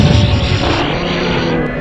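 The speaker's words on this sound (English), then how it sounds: "It's this, like, bomb thing" A bomb explodes in the video game MediEvil, a loud, dense blast with a rumbling, crashing roar that fills the whole moment without pause.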